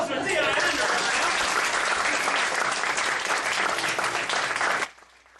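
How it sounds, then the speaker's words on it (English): An audience applauds steadily after a magic act solving a mock murder mystery, a dense, even wash of clapping that holds for nearly five seconds and then stops abruptly. "A round of applause for Dean"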